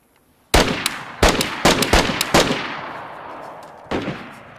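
Gunfire exchanged in a DayZ 3v3 PvP fight: several sharp, loud shots in quick irregular succession, some echoing, with a single further shot after a short pause; no talk over them.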